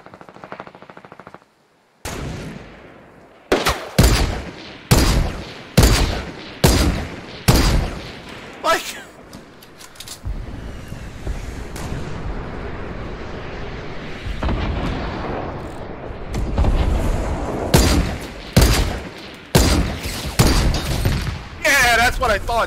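Rapid bursts of gunfire in the video game Fortnite crack out in a string of loud, sharp volleys, with sustained firing and a player's voice talking over the shots in the middle stretch.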